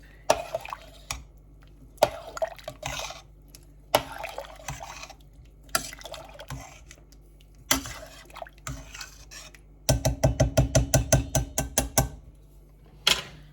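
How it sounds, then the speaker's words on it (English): Red peas soup in a cooking pot being stirred, a series of knocks and scrapes from a spoon against the pot, ending in a quick burst of rapid rhythmic taps. "I'm just gonna stir it up"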